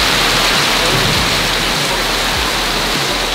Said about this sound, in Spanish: Miren qué palo de agua está cayendo, señores